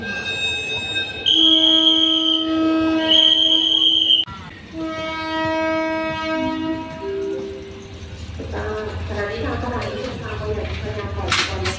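A Thai train sounds its horn whistle in two long, loud blasts, followed by a sustained tone that shifts pitch. Rumbling rail noise and some background voices follow.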